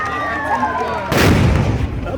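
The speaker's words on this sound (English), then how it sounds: "Car just exploded and has wounded a lot of people." Car explosion during a mountain race in Buea: a sudden loud blast cuts in after a droning hum, followed by a rough, crackling roar that slowly fades.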